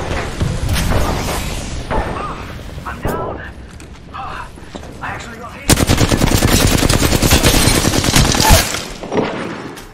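Rapid automatic gunfire in a video game rattles in sustained bursts with scattered single shots, loud and close, over game sound effects and voice lines.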